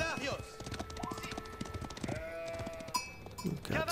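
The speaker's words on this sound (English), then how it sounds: "Some more sheep." Sheep bleat in the medieval strategy game Age of Empires IV, a few wavering calls amid hoof clip-clops and busy in-game village sounds, with a voice faintly present.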